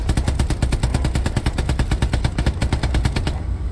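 Rapid automatic gunfire in the World War II shooter game Hell Let Loose, a loud, close, evenly spaced burst of shots running for several seconds.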